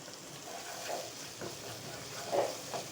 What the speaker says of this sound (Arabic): هنقلبها مع البصل بالشكل ده كده.